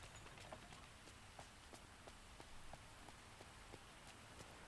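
Steady rain patters over a toy left outside in the cozy world of Disney Dreamlight Valley, a soft continuous hiss dotted with brief drip-like taps, no voices present.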